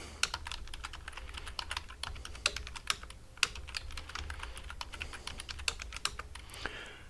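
Someone types a password on a computer keyboard, and the quiet key clicks come close together in quick, uneven bursts with short gaps between them.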